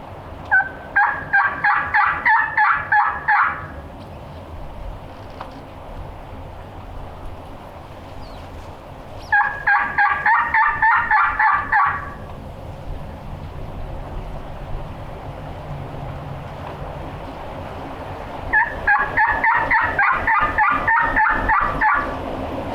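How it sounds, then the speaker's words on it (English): A wild turkey gobbles outdoors three separate times, each a rapid rattling burst several seconds apart, heard at a moderate distance over a steady low rumble of wind. "I think I heard a gobble."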